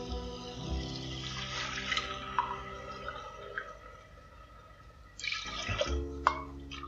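Water is measured and poured into rice in a pot, a soft trickling and splashing that pauses midway and resumes, quiet and close.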